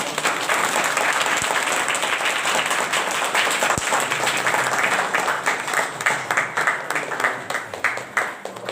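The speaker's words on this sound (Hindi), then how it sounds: "जोरदार तालियां बजाओ।" Sustained applause from a congregation at an Adivasi Rathavi Bareli Sunday worship service, dense clapping that stays loud and steady before thinning into scattered claps near the end.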